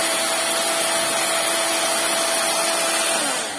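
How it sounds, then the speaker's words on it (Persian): Hair dryer blowing hot air over pearl hair-clip pieces, a loud continuous close whir with a faint steady whine, running unbroken for several seconds before starting to fade as it is switched off. "سشوار رو خاموش میکنیم"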